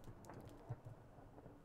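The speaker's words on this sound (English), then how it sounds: "Okay, it's a hailstorm." Steady hail and rain patter in a Minecraft hailstorm, with a low thunder rumble and a soft thump near the middle, all at low level and with no voices.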